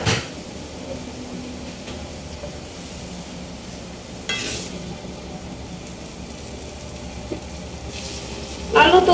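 Stir-fried vegetables with spring onion sizzle steadily in a pan after a splash of water goes in, with a brief louder hiss midway and a clatter near the end.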